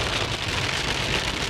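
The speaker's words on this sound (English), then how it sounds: "It's raining pretty hard right now." Heavy spring rain pours down in a steady, dense roar of drops hitting surfaces, close and constant with no voices.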